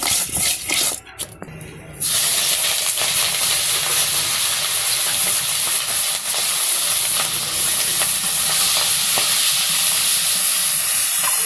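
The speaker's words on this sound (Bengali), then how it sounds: "তো ট্যাংরা মাছগুলো ভাইজা নিব" Tangra fish coated with turmeric, chili and salt frying in a pan in a village kitchen: a loud, constant sizzling hiss starts after a brief quieter moment and holds steady.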